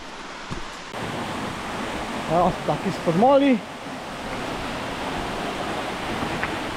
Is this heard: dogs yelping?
no